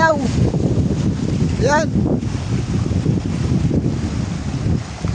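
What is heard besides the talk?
strong wind blowing during a storm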